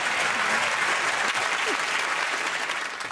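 A studio audience at a TV comedy panel game claps loudly and continuously, a crowded patter that stays full throughout, with faint voices briefly audible underneath.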